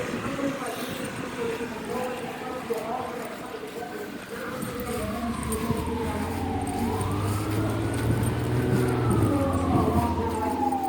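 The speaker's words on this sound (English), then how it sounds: "Sirens are becoming a familiar sound." Emergency vehicle sirens wail during a street rally in Inwood Park, Cincinnati, Ohio, a rising and falling tone sweeping steadily under crowd noise and voices, growing louder and nearer over several seconds.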